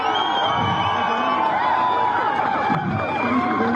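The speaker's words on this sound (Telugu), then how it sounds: "గట్టి చప్పట్లతో" A large protest crowd in Hyderabad claps and cheers loudly, with whoops and shouts rising over a continuous roar, heard up close throughout.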